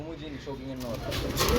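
Pigeons at a pigeon market coo close by in repeated soft, throaty calls, with low market noise rising behind them.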